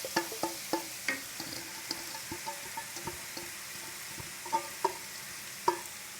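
Pumpkin halwa cooks in a pan over a low flame, giving a quiet, soft sizzle, while a spoon stirs and scrapes against the pan in irregular light taps.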